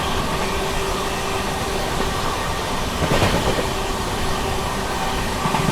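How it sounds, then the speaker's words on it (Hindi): Avadh Express passenger train rumbling steadily alongside a goods train it overtakes on parallel track, a continuous loud rail roar with a brief surge of wheel noise midway. "ये रही भाई आप लोगों की अवध एक्सप्रेस, मार दिया ओवरटेक इसको"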